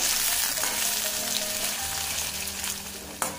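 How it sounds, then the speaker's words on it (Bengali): Potatoes fry in hot oil with five-spice and cumin seeds, a steady close sizzle with occasional spoon scrapes against the pan and a sharp knock near the end. "আলুগুলো আমি বেশ ভালোভাবে একটু ভেজে নেব।"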